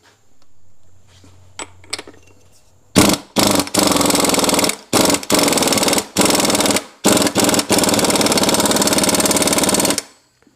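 Rapid metallic hammering in bursts, loud and close, as a part is driven onto a Sea-Doo 4-TEC engine with a 1 1/16 socket, broken by short pauses, after a few seconds of quiet with faint knocks at the start.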